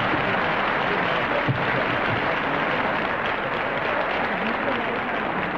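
Studio audience of a vintage television game show breaking into loud, sustained applause, a thick, even wash of many clapping hands that holds steady for several seconds.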